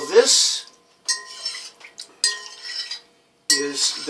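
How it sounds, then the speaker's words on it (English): A spoon stirs a whisky, oat and honey mix in a bowl, producing a few separate bursts of scraping and clinking against the dish, close and clear with short gaps of silence. "Give it a bit of a stir."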